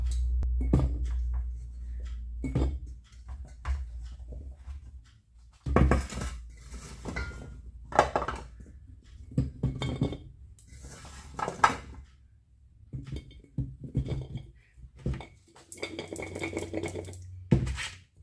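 Pieces of green walnut drop and clink into a glass jar in a close, irregular series of sharp knocks and rattles, with brief pauses between handfuls.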